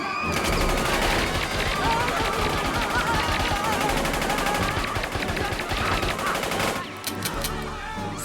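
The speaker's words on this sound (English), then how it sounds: "Use the machine gun!" Rapid machine gun fire in a video game, dense and loud, rattling almost nonstop for about seven seconds amid layered game sound before easing off briefly near the end.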